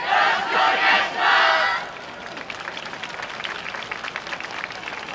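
Crowd noise at a YOSAKOI Soran festival performance, with a loud burst of cheering and clapping that fades into a softer steady rhythmic clapping from the audience.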